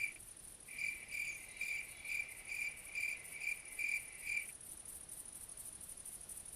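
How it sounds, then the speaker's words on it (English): Crickets chirping in the theHunter Classic hunting game, a steady run of bright, rhythmic pulsed chirps at moderate level over a quiet ambient bed, stopping partway and leaving faint background. "You can hear crickets."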